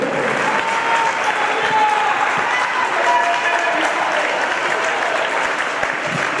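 Applause from the crowd at a football tournament award ceremony, steady and sustained throughout as a goalkeeper is honored, with a voice speaking over it.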